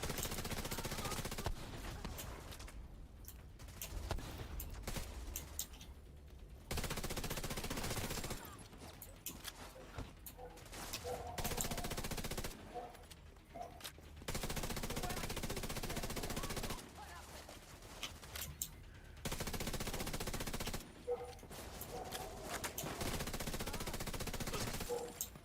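Sustained bursts of automatic gunfire from enemy players in a multiplayer shooter game, rapid and dense, cutting in and out in long volleys with short gaps between them.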